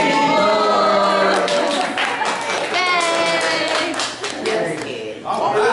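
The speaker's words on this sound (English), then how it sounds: "We're clapping." A small family group claps right after singing happy birthday at a home party, a brief burst of hand claps mixed with excited voices and children's chatter.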